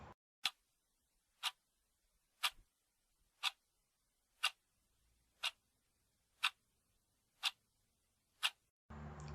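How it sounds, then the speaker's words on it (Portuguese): Clock ticking, nine evenly spaced sharp ticks about one second apart, crisp and isolated against near silence. "o segundo é o barulho do tic-tac do relógio"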